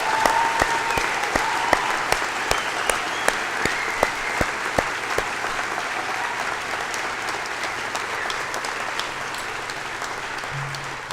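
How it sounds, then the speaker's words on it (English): Sustained applause from a graduation convocation crowd congratulating new graduates, dense steady clapping throughout with a few sharper individual claps standing out. "Another round of applause and congratulations."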